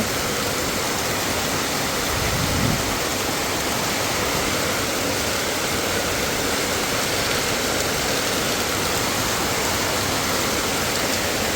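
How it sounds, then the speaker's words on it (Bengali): Heavy rain pours down suddenly onto a home courtyard, a steady, dense rush that holds constant with no pauses throughout. "কি পরিমাণে বৃষ্টি নামতেছে"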